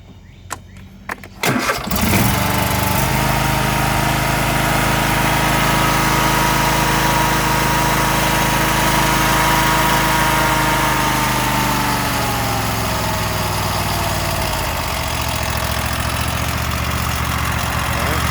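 Husqvarna YTH24K48 lawn tractor with a 24-horsepower Kohler Courage V-twin engine cranking briefly, catching and settling into a loud, steady close-range idle that runs on.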